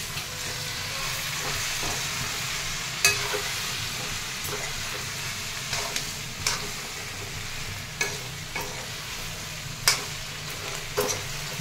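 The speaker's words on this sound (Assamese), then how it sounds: "এতিয়া ফ্ৰাইটো কৰি আছোঁ" Pork fries with spices in a pan, producing a steady, close sizzle with occasional sharp clinks and scrapes from stirring.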